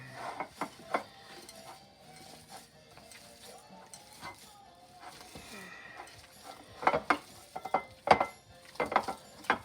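Hands squishing and kneading a meatball mixture of ground meat bound with egg in a bowl: irregular wet squelches and soft knocks, growing busier and louder toward the end.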